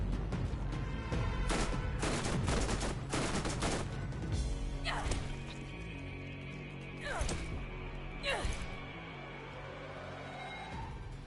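Shotgun fire in the video game Borderlands comes as a loud burst of rapid blasts, then a few spaced heavy shots with ringing, whooshing tails, while a voice talks underneath.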